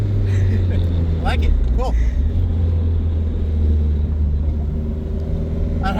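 A 396 hp Nissan S15 Silvia with a bottom-mount SR20 turbo pulls hard in third gear, a loud, steady engine drone heard from inside the car, with a voice speaking briefly over it.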